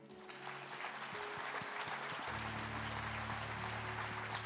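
A church congregation applauding together, a steady wash of clapping that swells and holds, with sustained organ or keyboard tones beneath and no clear talk.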